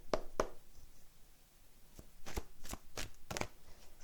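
Oracle cards being drawn and flipped from a deck, a series of short crisp card snaps and slides spread unevenly, some doubled in quick succession, close and fairly quiet with no talking.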